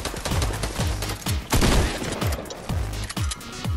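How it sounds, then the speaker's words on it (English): Rapid bursts of gunfire in the Fortnite battle royale video game, dense repeated shots in clusters over several seconds, loud and close. "Someone shooting."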